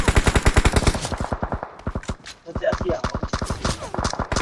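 Rapid automatic gunfire in the PUBG Mobile video game: loud, dense bursts of shots for over a second, a brief lull, then another sustained volley of fast cracks.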